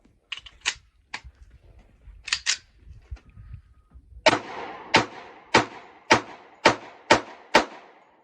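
Kimber 1911 pistol fired with its 7-round factory magazine outdoors, a string of sharp individual shots, loud and close, with quieter clicks and handling before a rapid run of evenly spaced reports.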